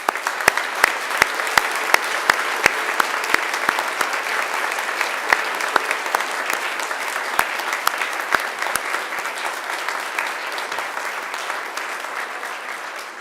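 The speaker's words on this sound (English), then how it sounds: "And now it's time to give them a mighty round of applause" Sustained, even applause from a large graduation audience honoring families and friends, dense clapping holding steady throughout and tapering slightly near the end, with no talk over it.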